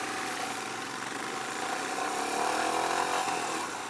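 Royal Enfield Himalayan motorcycle engine running and revving slightly, a continuous mid-pitched engine drone with a gentle rise in revs partway through, heard nearby without speech.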